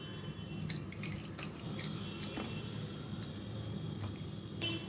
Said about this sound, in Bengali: ছানাটা ছেঁকে এখন ভালো করে ধুয়ে নেব